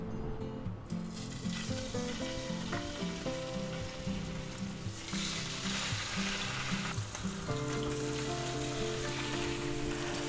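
Thin slices of pork loin fry in a pan, giving a strong, steady close-up sizzle and crackle throughout, with tonal background music underneath.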